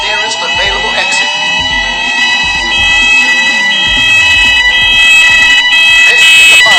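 A shopping mall's fire alarm blares loud, piercing electronic tones, with a recorded voice giving an evacuation announcement over the alarm and the sound swelling toward the end.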